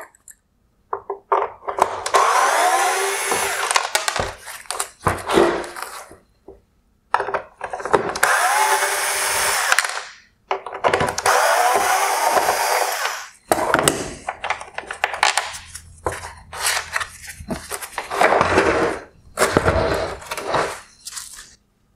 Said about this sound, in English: I'm going to begin by removing three T20 Torx screws from the rear of the light.